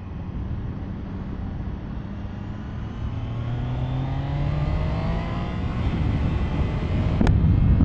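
Triumph Daytona 660 sport motorcycle with its three-cylinder engine, heard on the road as the engine note climbs steadily through a gear under loud, constant wind rush.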